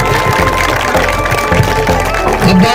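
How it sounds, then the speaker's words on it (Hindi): An audience at a summer camp closing ceremony run by a sports department in Satna claps together, a brief steady patter of hands with some crowd noise mixed in. "तालियां तो बजा दो"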